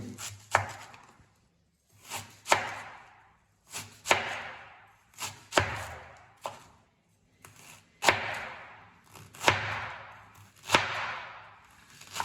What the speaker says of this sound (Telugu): మనం క్యాబేజ్ కట్ చేసుకుందాం ఫస్ట్ క్యాబేజీని ఇలా సన్నగా తరుక్కోవాలి